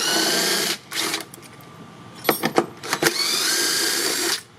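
Small impact wrench or ratchet with a 12mm socket and extension backing bolts out of a Yamaha jet ski hull: two sustained whirring bursts framing a quick series of short, sharp rattling hits, close and loud, no voices.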